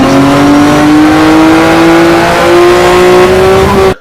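Engine from a Need for Speed racing game on a PC, a loud continuous car drone with a steadily rising pitch as it accelerates, holding strong for four seconds before cutting off abruptly.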